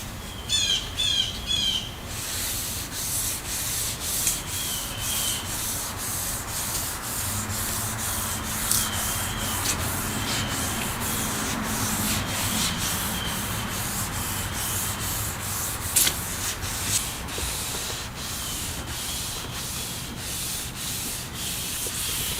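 A foggy plastic headlight on a 2007 4Runner is hand sanded in horizontal strokes, a close, steady scratchy rubbing repeated back and forth with a few faint squeaks.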